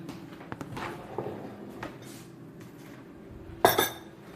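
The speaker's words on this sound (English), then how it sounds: "And we are cracking our eggs" Eggs being cracked on a flat counter and opened into a smaller bowl while making air fryer bacon and eggs, with a few light taps and clinks and a sharper crack near the end, close and otherwise quiet.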